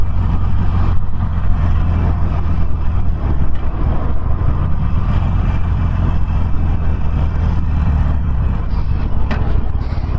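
A 2019 Harley-Davidson Sportster Roadster cruising in fourth gear at about 50 mph, heard as a steady, loud engine drone with continuous wind rush and no clear pauses.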